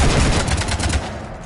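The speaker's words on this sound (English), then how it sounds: "You want to stop shooting up my ship?" Rapid automatic gunfire in the Mass Effect video game, loud bursts raking a ship in a dense barrage that eases off toward the end, with no talking.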